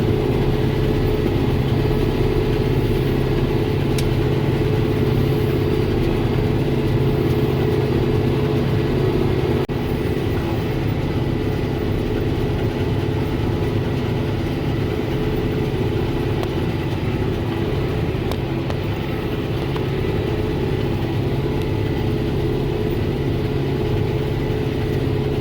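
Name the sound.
tractor engine pulling New Holland BR7060 round baler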